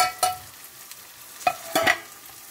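Chilies drop into hot oil for a Kerala-style sambar, giving a few short sizzling bursts and stirring scrapes with quiet gaps between them.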